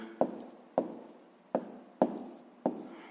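Pen strokes writing out a math calculation on paper, five short scratchy marks in an uneven rhythm, close and quiet with no talking.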